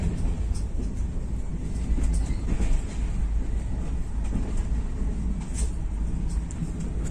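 Geetanjali Express passenger train running through Eastern Ghats forest, a steady low rumble and rattle of the carriages heard from on board, continuous and fairly loud throughout.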